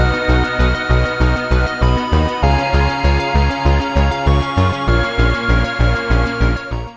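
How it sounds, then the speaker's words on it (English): Thick layered synth bass from a BA-1 synthesizer plugin pulses in a steady rhythmic synthwave pattern, punchy and loud, with bright harmonic layers stacked over the deep low end. "And now these basses are layered up, it sounds like this."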